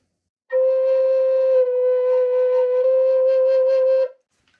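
A Native American flute sounds a sustained breathy tone for about three and a half seconds, stepping from C down to a half-holed low B near the end, played solo with faint overtones and no talking.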